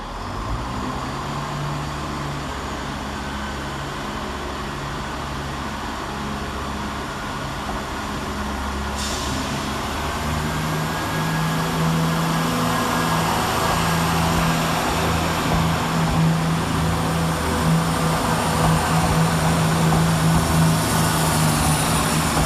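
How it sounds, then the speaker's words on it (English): A ScotRail diesel unit pulls away from a platform at Glasgow Queen Street station on a service to Arbroath. Its low engine rumble and wheel noise hold steady, then swell gradually as it departs, with no voices. "Departing on the close side is 17396, working the 1610 Scotrail service to Arbroath via Dundee."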